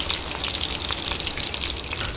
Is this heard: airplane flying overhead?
no